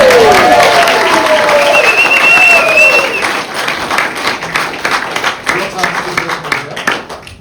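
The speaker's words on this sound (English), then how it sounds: "Now you can clap." Wedding guests at a ring ceremony break into loud clapping and cheering, with excited voices and whoops at first, the applause then tapering into scattered claps.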